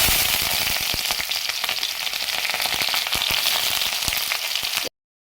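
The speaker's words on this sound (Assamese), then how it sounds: "জিৰাখিনি ফুটাৰ লগে লগে বেছি গৰম হৈ গ'ল আৰু জলকীয়াকেইটা দি দিলোঁ। লগতে দি দিছোঁ পিঁয়াজখিনি" Onions, green chilies and cumin seeds fry in hot oil in a wok, giving a steady, loud, dense sizzle with scattered sharp crackles and pops, close up and alone, before stopping abruptly near the end.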